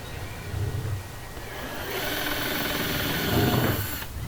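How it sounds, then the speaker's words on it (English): An air riveter works on metal, giving a rising pneumatic hiss and hum that builds to a loud burst near the end, set against a quiet workshop. "I'll start by riveting it firmly down into the lip, one on either end, just to get it seated."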